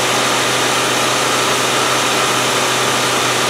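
The engine of a 1997 Land Rover Discovery 1 runs steadily after starting, a loud, even, noisy idle with a constant rumble throughout and no voices.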